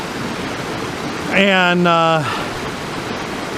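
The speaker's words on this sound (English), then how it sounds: "it goes from little waterfall to little waterfall to little waterfall" Small waterfalls along a stream give a steady broad rush of falling water throughout, with a voice briefly speaking over it partway through.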